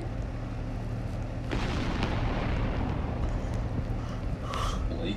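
A bomb blast in the Roblox game Epic Minigames, party mode: a loud, sustained broadband rumble that swells at about 1.5 seconds and rolls on for several seconds over a low, steady game background.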